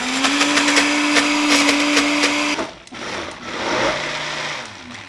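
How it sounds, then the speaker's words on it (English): A kitchen blender purees apples for a parsnip puree, a loud steady motor whine with a high buzzing tone that cuts off partway through. A lower rumbling whir follows in the quieter second half. "We're just gonna blend."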